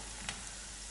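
Lozhkarev pelmeni frying in a pan, a dense, steady sizzle with a brief crackle in the middle, close and continuous for about a second.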